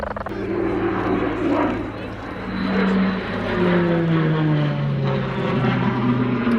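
A Tucano propeller training aircraft flies past at the Cosford airshow in 2019, its engine drone sliding steadily in pitch as it passes at moderate distance, with a voice talking over it.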